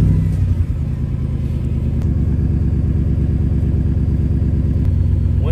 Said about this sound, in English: The last step is turning on the truck